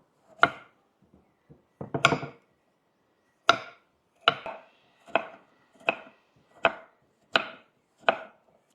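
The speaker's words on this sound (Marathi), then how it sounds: "आपण आता ते कट करून घेऊ" Knife chopping tomatoes and onions on a board: a few soft cuts, then a steady series of eight sharp, evenly spaced chops, close and clear.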